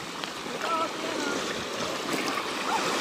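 Steady broadband wash of shallow beach water at Calatagan, Batangas, waves rolling and splashing close by, continuous with no clear breaks and no talking.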